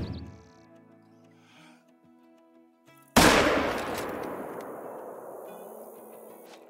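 A single loud hunting rifle shot in the video game Call of the Wild, a sharp blast followed by a long rolling echo that fades slowly, after a quiet stretch with faint game sounds.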